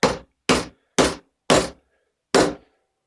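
A copper mallet strikes an aluminium clutch hub padded with a rag, five sharp, solid blows spaced roughly half a second apart with a longer pause before the last, close and loud with no talking.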